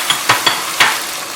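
Potatoes frying in a pan for aloo palak, stirred with a utensil: close sizzling broken by four quick scraping stir strokes, loud and alone without talk.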